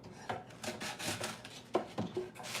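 Hand sanding a rough salvaged wooden lath slat crate with kerf marks, quiet rasping strokes repeating in an uneven rhythm, close and fairly soft.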